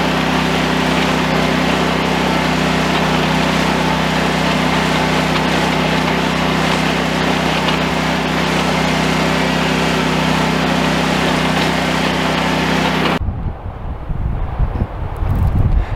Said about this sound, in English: let's grab the mowers real quick